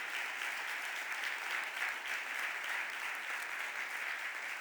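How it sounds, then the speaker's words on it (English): Audience at Philadelphia City Council during the mayor's budget address giving sustained applause: a steady, dense wash of clapping from a large room that stays level and unbroken throughout. "Please give our providers a huge round of applause."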